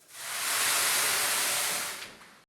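Water shot into a hot oven to make steam while baking a Jewish sourdough rye loaf, a steady loud hiss that rises quickly, holds for about two seconds, then cuts off.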